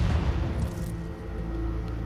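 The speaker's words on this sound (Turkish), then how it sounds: "O düşmedi. Patladı." A low, rumbling boom with a muffled roar that lingers and slowly fades, deep and heavy.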